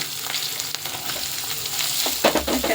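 Finely chopped green chillies and onions frying in a pan for a Bombay aloo bhaji: a steady close sizzle with faint stirring scrapes, and no voices.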